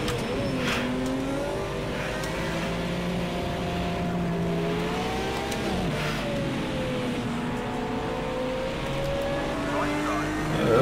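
Race car engines drone in the Project CARS 2 video game, a loud steady whine whose pitch rises and falls with shifts and throttle, with several cars running close together throughout.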